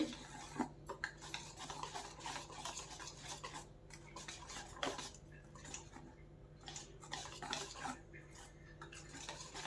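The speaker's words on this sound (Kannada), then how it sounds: "ಇವಾಗ ಮಿಕ್ಸ್ ಮಾಡ್ಕೋತಾ ಇದ್ದೀನಿ" A spoon stirs semolina mango cake batter in a bowl, giving a steady run of soft scraping clicks and taps that repeats close by and fairly quietly for the whole stretch.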